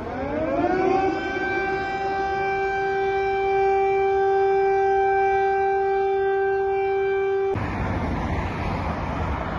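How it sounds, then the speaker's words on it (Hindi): Air raid siren wailing over Kyiv, a loud steady rising-then-held tone with street traffic beneath it, cutting off abruptly near the end into broadband city noise. "इसी के साथ कीव में सायरन बजने लगा"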